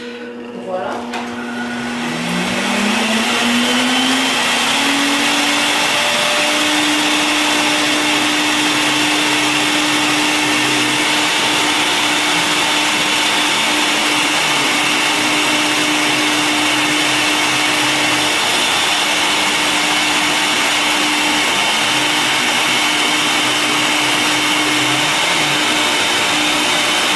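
A Sirena System water-filter vacuum cleaner starts up and runs steadily with a loud, constant motor whine and airy rush, its pitch rising briefly as it spins up, with no talking.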